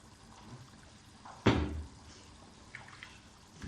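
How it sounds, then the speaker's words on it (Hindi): Rice that was soaked for half an hour is tipped into boiling water in a pot for pulao, making one short splashy pour over a quiet background of low bubbling. "चावल डालती हूँ।"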